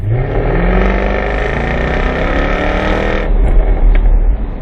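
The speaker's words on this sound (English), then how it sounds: "One thing that both cars do have is the option of the active exhaust." A powerful Jaguar F-Type V8 revs hard through its active sports exhaust, a sustained deep roar that rises and falls, ending with a sharp blip.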